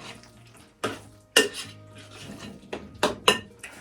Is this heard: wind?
no